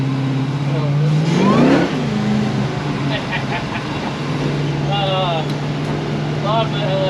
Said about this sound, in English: Love the LSA supercharger, sounds so sick.